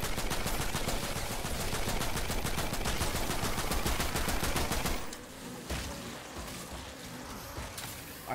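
Rapid automatic fire from the Primal Rifle in Fortnite Save the World, a dense, steady stream of shots for about five seconds that then stops, leaving quieter in-game sounds and a few scattered shots.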